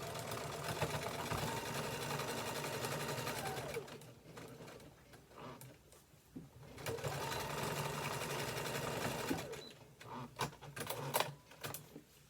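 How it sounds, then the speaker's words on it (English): A sewing machine stitches sublimation fabric in close, rapid runs of whirring stitches, broken by a pause and a few shorter bursts. "I will put the other side underneath the machine, and then I will keep pressing. I will keep sewing"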